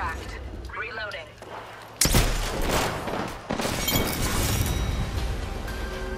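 Loud bursts of gunfire and cracking impacts in a shooter video game, starting abruptly and continuing densely, with voice chatter underneath.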